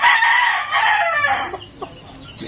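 A gamecock rooster crows loudly up close, a long sustained call that trails off into a few softer clucks.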